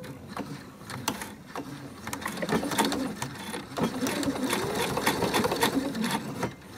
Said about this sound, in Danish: Og så syr jeg lige herude fra min vinkel af her